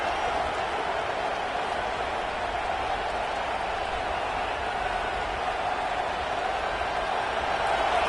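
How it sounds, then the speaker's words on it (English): Stadium crowd noise in the College Football 26 video game, a dense, steady roar of many voices, constant and loud throughout with no breaks. "This crowd bringing the energy and noise early."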